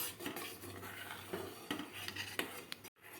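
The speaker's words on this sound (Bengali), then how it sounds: "দেখুন ধীরে ধীরে আমার কাস্টার্ডটা ফুটছে আর আমি এভাবে নাড়তে থাকছি" A spoon stirs custard vermicelli in a pan over low heat, with soft, steady scraping strokes and light clinks close by, ending in a brief silence.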